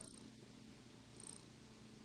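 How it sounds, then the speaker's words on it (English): A cat purrs softly and steadily for a couple of seconds, a low faint rumble with no voices over it. "That's a cat noise."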